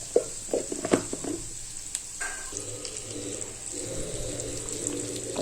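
Onions fry in a pan for an egg and spinach dish, hissing in a steady sizzle with scattered clinks and stirring knocks up close, and no talking.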